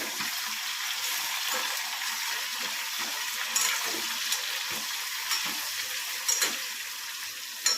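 Whole stuffed eggplants for a Kathiyawadi curry are stirred in a hot pan, making a bright continuous sizzle and hiss with occasional scraping clinks near the end, loud and close, with no voices.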